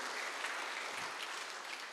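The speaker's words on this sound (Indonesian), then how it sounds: "Boleh tepuk tangannya lagi Bapak Ibu sekali lagi buat Persaka Karangkojo" Clapping from the congregation at an Indonesian church Christmas celebration fills the room as dense, steady applause from many hands, with no talk over it.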